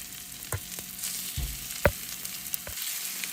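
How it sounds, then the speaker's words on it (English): Salmon pieces searing in olive oil in a saucepan give a steady close sizzle, broken by a few sharp pops and utensil clicks. "Let's go and get a nice sear on these."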